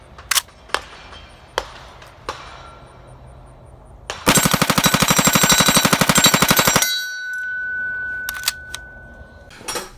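An MP5 submachine gun fires one loud, continuous full-auto burst of about 800 rounds per minute, lasting over two seconds, preceded by a few sharp isolated clicks and followed by a fading ring and more clicks.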